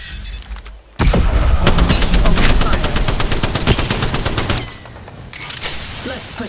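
Sustained automatic gunfire in Apex Legends rattles loud and close in a rapid, evenly spaced burst lasting several seconds, followed after a brief lull by a few more shots, with a faint voice in the background.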